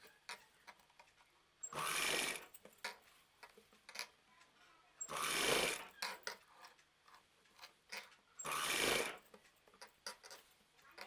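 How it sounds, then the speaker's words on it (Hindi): A sewing machine stitches the collar of a frill frock in three short bursts of about a second each, separated by quiet gaps with faint handling clicks. "फिर सिलाई लगाएंगे।"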